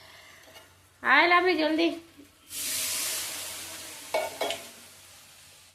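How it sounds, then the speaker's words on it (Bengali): Spice paste for an egg curry stirred and fried in a pan, a bright sizzle and hiss swelling up between scraping stirs, with a woman calling out briefly over it. "মশলাটা কষাচ্ছি ভালো করে"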